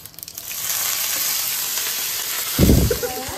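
Chillies fry in a pan for a cashew paneer dish, giving a loud, steady, close-up crackling sizzle that swells into a brief burst of louder spattering near the end.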